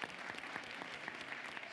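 An audience at the Hult Prize 2022 Global Finals gives a round of applause after a team's presentation: a fairly faint, even patter of many hands clapping without a break.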